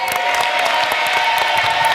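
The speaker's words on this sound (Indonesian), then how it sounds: "Tepuk tangan dong untuk kedua tim." Steady, loud applause from a television game-show studio audience on Family 100, clapping for both competing teams in brisk, continuous patter over a short span.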